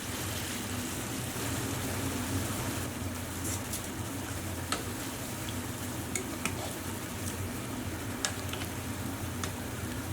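Chicken simmering in a creamy honey mustard sauce in a pan gives a steady, soft sizzle and bubbling hiss throughout, with occasional faint clicks and pops and no talking.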